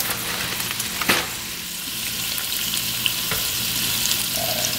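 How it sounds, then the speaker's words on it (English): Sausage meatballs with chopped green and orange peppers simmer in a pan, a continuous close sizzle and hiss with a couple of faint clinks from a utensil and no voices. "I'm gonna throw a little peppers, green peppers, orange peppers in there with the sausage, and just let it simmer down"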